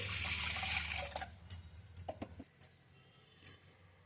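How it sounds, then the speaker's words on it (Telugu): Toor dal is washed in water inside a pressure cooker: a faint slosh and swirl of water, then a few soft drips and splashes, with no talk. "నీళ్లు పోసుకొని 3-4 సార్లు శుభ్రంగా కడుక్కోవాలి"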